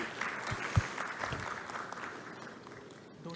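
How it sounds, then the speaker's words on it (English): Audience applause at a vehicle technology day event, a broad wash of clapping that stays steady and moderately loud across the room before tapering slightly toward the end. "Please give a huge round of applause"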